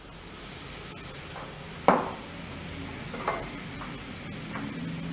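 Ingredients with oil and honey sizzle in a hot pan, a steady soft frying hiss broken by a sharp clatter of a utensil and a few fainter scrapes, with no talk.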